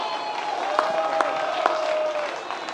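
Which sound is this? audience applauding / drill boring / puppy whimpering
audience applauding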